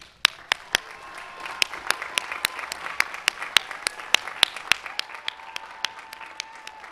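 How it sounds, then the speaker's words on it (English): Applause at a 2015 CSULB commencement ceremony, with sharp individual claps standing out near the microphone over a steady wash of crowd clapping from a large audience, continuing evenly throughout. "please wave or stand up so we can give you a round of applause"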